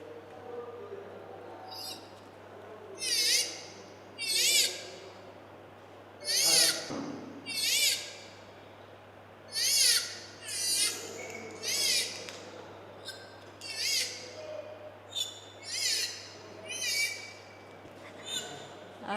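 Large pouch-billed water birds at the Uppalapadu bird sanctuary give a dozen or so wailing calls that sound like a crying baby. The short, evenly spaced bursts stand out over a steady low hum.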